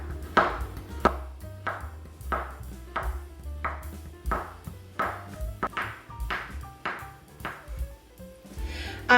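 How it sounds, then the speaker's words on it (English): A knife chops food into small pieces on a cutting board, about a dozen sharp, evenly spaced knocks at a steady rhythm, close and clear with no talking. "Then flip it onto the flat side and then cut these in small pieces."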